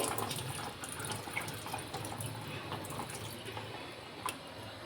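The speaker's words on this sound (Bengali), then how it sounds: "অল্প একটু জল দিয়েছি উষ্ণ গরম জল অবশ্যই দেবে" Warm water poured into a pot of mutton curry with homemade garam masala, a steady close splashing and trickling stream lasting several seconds, fairly quiet.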